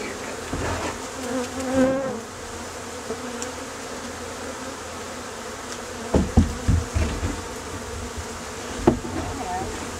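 A swarm of bees buzzes steadily outdoors, a dense continuous drone with a few sharp knocks and thumps breaking through partway.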